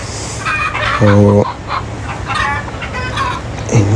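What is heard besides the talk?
roosters and hens clucking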